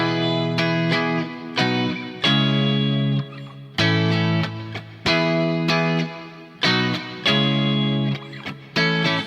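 Distorted electric guitar strumming full barre chords in a steady progression, each chord struck firmly and held, loud and alone with no voices.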